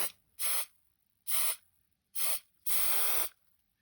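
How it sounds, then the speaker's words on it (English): Hairspray spraying from an aerosol can, four short hissing bursts, the last one longer, close and clear with quiet gaps between. "give it a bit of a spray with some hairspray"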